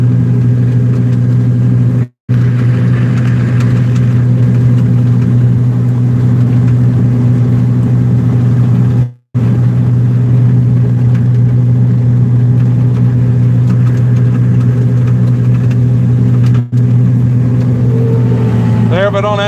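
A swather's 120-horsepower engine hums steadily at a constant low pitch while swathing malt barley, a continuous loud drone broken only by a few brief dropouts.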